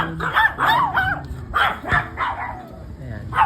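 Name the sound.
many dogs barking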